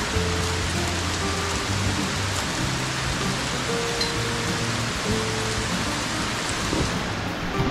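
Steady, even rain pours outdoors over a freshly dug drainage canal, a continuous dense hiss with no talking.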